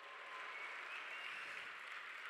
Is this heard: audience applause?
yes